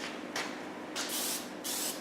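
Paint sprays in short bursts onto a model A-10 aircraft with paper stuffed in the engine nacelles, three distinct hissing puffs close up over a faint steady background.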